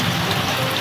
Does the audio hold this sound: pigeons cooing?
no